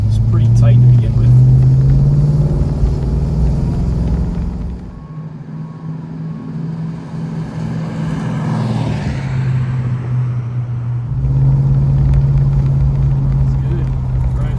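A 1969 Dodge Charger R/T, original-owner car with low mileage, cruising with a steady low engine rumble that dips briefly mid-way and swells again, while a person talks over it.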